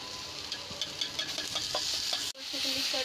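Paneer and soybean curry is stirred in hot ghee: a steady, close sizzle with scraping spoon strokes against the pan, broken by a brief pause near the end.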